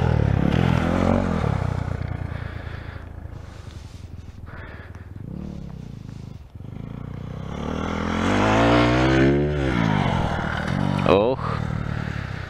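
A Geon GNX 250 motorcycle is ridden and landed after a jump. The engine rises and falls under continuous close talking, with a brief clatter near the end.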